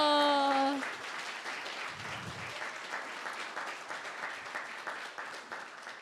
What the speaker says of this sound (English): can we get one more round of applause for Miss Matlin?